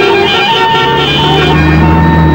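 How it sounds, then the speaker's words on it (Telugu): Road traffic in a Telugu comedy film scene forms a loud, continuous engine drone with tonal hum and steady rumbling that does not let up. "ఇదేం ట్రాఫిక్, ఇదేం రోడ్లు,"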